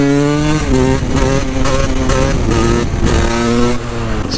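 A KTM EXC 300 two-stroke dirt bike engine revs loud and close, holding a steady buzzing drone that rises and falls in pitch through several throttle blips, with no talk over it.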